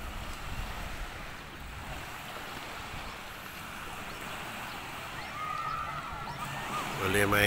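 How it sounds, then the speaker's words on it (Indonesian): Waves wash onto Cenang Beach on Langkawi island, a steady surf hiss with wind noise on the microphone and a brief tonal sound near the end. "Cantik pantai ini, bersih."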